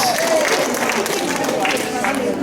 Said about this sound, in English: Can we hear a round of applause for Lucas?